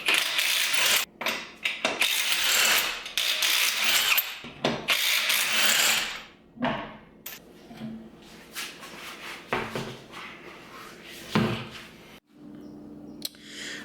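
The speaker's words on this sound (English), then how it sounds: "22 millimeter, get the lug nuts off" A power tool or impact wrench spins 22 mm lug nuts off a Corvette C8 wheel in a home garage, giving several loud whirring bursts that start and stop, with brief clicks and clanks between them.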